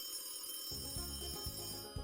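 A telephone bell rings in short repeated bursts inside a Philippine AM radio contest jingle, loud and steady after a brief quiet opening, with no talk over it.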